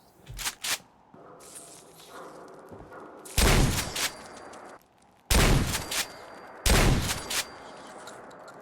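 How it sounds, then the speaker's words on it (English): Shotgun blasts fired at radroaches in the video game Fallout 4, three loud, close booms spaced about two seconds apart, each with a ringing tail, after some faint earlier pops and ambient game noise. "I feel like rad roaches is a good use for a shotgun"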